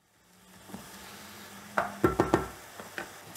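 Bolognese meat and tomato stirred in a pan over high heat, a low sizzle running under several sharp scraping strokes of the spoon, close and fairly loud.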